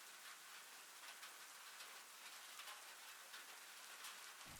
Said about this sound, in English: The sound of thousands of raindrops hitting the glass roof above you.